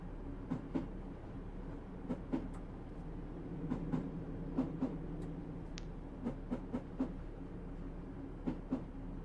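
A train rolls along rails with steady rumble and regular clickety-clack wheel beats over rail joints, a continuous moderate ride sound from aboard, on a route from Willesden depot to Gospel Oak.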